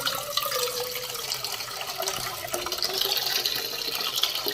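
Water running steadily from a tap into a cooking pot, splashing and filling with a rising pitch, close by and without talk.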